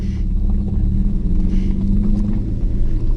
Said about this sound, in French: je vais laisser parler le moteur